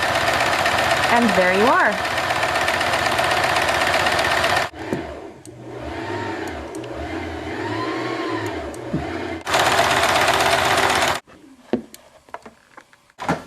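A sewing machine stitches fabric at a pedal-controlled pace, running in loud bursts with pauses between them, and a voice talks briefly near the end.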